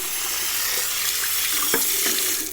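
Running tap water rinses out a shaving-soap lather bowl, a steady close splashing rush with a few small knocks of the bowl, no voices.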